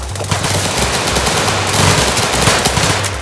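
A Draco firing in the Roblox game Chicago Remastered, one loud continuous burst of rapid automatic shots with no pause, harsh and close for the whole stretch.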